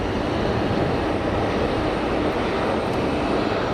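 An easyJet Airbus A320 jet at Geneva Airport, its engines giving a loud, steady, dense roar up close, with no talking.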